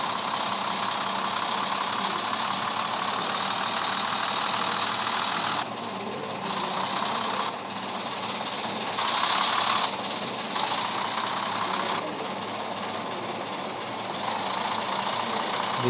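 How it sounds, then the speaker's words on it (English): Flatbed truck driven in the Turboprop Flight Simulator video game, a steady idling engine drone that runs throughout, with brief dips in level as it moves, no talking. "This is my flatbed, and I am going to drive this."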